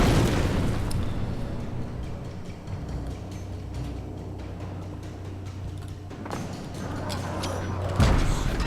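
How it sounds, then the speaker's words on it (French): Grenade thrown and detonating in the video game Alan Wake, a heavy boom at the start followed by dense rumbling game noise with later thumps, loud throughout. "On va balancer la grenade volante."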